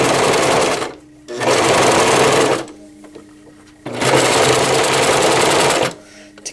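A sewing machine fitted with a walking foot stitches stretchy fabric for a pocket diaper, running in two long, steady bursts separated by short pauses, loud and close.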